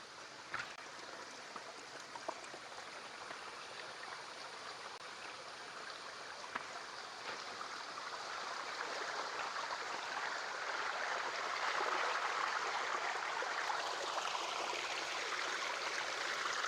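A small, slow-flowing hidden waterfall and stream in the forest after little rain makes a steady, broadband rush of water that holds constant throughout and grows slightly fuller midway.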